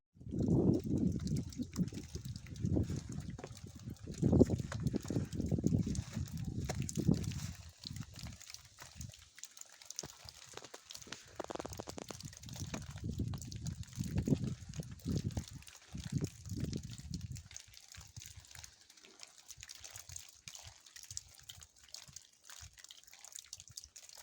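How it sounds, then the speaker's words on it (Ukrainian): Water dripping steadily somewhere nearby, small faint drips sounding in irregular succession against low background rumble and occasional soft voices. "Лише капає."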